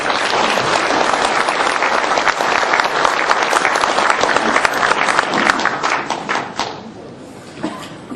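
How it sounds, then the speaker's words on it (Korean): A forum audience at a veterans' association event claps to welcome a North Korean defector speaker, loud sustained applause with distinct individual claps that stops abruptly near the end, followed by near quiet. "박수로 환영해 주시면 감사하겠습니다."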